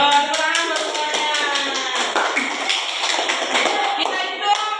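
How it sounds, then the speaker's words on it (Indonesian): A group of people gives a round of applause after a timed classroom coaching activity, with dense, lively clapping that is close and steady for several seconds, mixed with chatter and cheerful voices. "Ayo, tepuk tangan buat semuanya."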